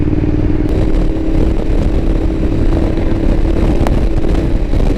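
A Ducati Diavel motorcycle engine runs loud and close as the throttle closes. The rumble stays dense and continuous for the whole stretch, with faint scraping and clatter mixed in.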